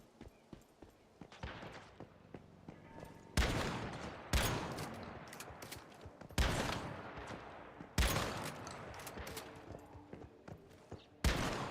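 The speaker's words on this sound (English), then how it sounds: "Shotguns are fun." Shotgun blasts ring out in the video game Once Human, five loud, sharp booms spaced a second or two apart, each with a short decaying tail over faint background game sounds.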